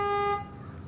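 A truck horn in SnowRunner sounds once as a loud, steady, buzzy tone for a fraction of a second, then stops and leaves faint engine rumble.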